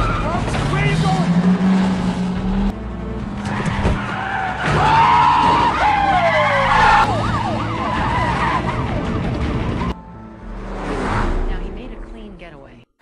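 A car skids and screeches through a movie police chase, with sirens wailing, the engine roaring and shouting voices over the noise, loud and busy throughout with a short lull before it surges again.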